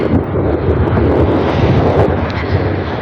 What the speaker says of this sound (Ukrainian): а також вітер противний